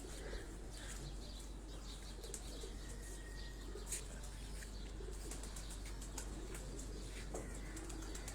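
Pigeons kept in pairs in a rooftop loft in Lahore, with soft cooing and occasional wing flaps blending into steady, hissy background noise.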